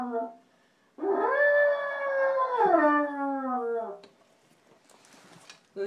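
Someone blows through a hollow hadrosaur crest fossil to imitate the dinosaur's call, producing a long, loud, resonant moaning tone of about three seconds that slides downward at the end, close and alone in a quiet room.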